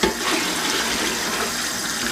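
Tap water runs steadily in a continuous hiss and splash, close by, with no talking.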